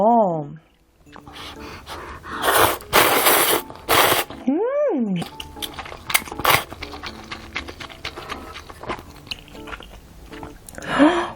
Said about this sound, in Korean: 칼국수 사리는 처음 먹는데 너무 맛있다.